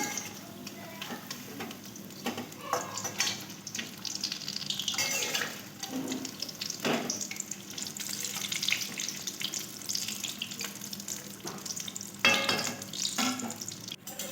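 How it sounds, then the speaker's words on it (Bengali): Bhetki fish chops fry in hot oil, a steady close sizzle and crackle broken by occasional clinks and scrapes of a utensil in the pan. "তো লাল লাল করে আমি ভেজে নিচ্ছি"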